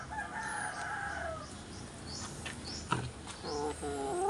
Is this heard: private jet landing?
no